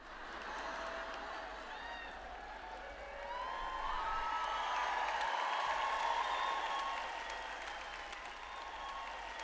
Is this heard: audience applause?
yes